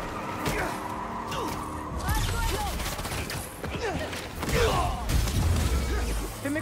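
Rapid bursts of gunfire in the Spider-Man 2 video game, dense and loud amid mechanical clatter, crashes and a busy action mix, with voices speaking in places.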